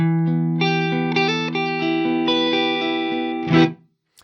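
A clean electric guitar plays a short series of plucked notes and chords, dry and close with no echo, ending on a brief strummed chord.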